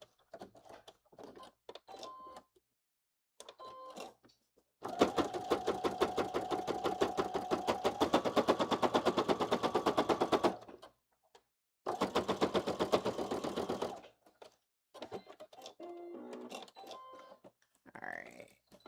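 A sewing machine runs top stitching on white fabric in two long bursts of rapid, even needle rattle, close and fairly loud, with quieter handling noises before and after.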